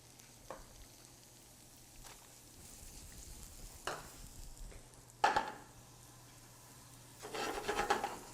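Leeks cook in melted butter in a pot with a faint, soft sizzle, broken by sporadic spoon scrapes and stirring taps that grow busier toward the end.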